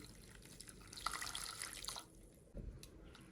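Water is poured into a bowl of mashed pumpkin mixed with sugar, a faint, soft splashing stream that comes in two bursts with a short pause between them, heard alone.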